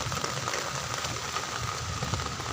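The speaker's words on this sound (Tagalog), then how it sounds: "Lakas ng hangin, ulan." Rain falling during a typhoon, a continuous moderate hiss of drops on surfaces with gusty rumble underneath, steady and fairly close, no voices heard.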